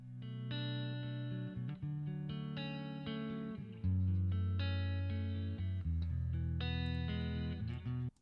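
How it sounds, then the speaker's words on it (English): Electric guitar tone from a Fender Tone Master Pro modeler plays sustained chords and ringing notes, full and continuous with effects coloring, changing chord every couple of seconds, with no talk. "this is the sound that came out of the Tonemaster Pro"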